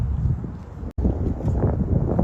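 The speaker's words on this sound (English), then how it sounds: "it is a little windy out here" Gusty wind buffets the microphone outdoors, a steady low rumble with one brief dropout partway through and no talking.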